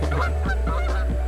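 Goose honks over a steady low engine drone, with repeated loud calls from close by. The scene is a seaplane model flying low over water.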